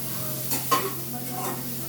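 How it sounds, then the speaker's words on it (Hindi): Soybean chunks fry in a pan, hissing steadily up close while being tossed and stirred, with a couple of scraping bursts around the middle. "ये डाल दी हमने फ्राई करने के लिए, और इसको हम ऐसे उलट पुलट करके छोड़ देंगे"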